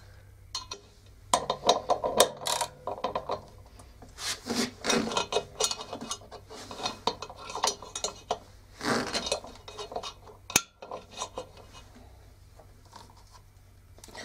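Screwdriver turning a bolt on an LG washing machine, braced by hand and knee: scattered close rasping scrapes, metallic clinks and rubbing knocks in irregular bursts, with quieter pauses between.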